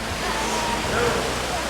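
A waterfall on the Jalori Pass road roars in a steady, broad, loud rush of falling water and spray, unbroken across the short stretch.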